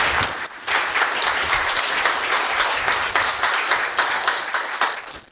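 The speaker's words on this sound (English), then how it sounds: "Please give a very warm round of applause." A conference audience at FOSDEM claps warmly to welcome a speaker before a talk, a loud, dense burst of applause with individual claps standing out, steady for the whole stretch.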